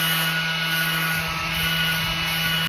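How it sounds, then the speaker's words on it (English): A power sander works on wooden planter legs, a steady close whirring hum with a constant tone that cuts off abruptly at the end. "Now I'm gonna sand all these legs."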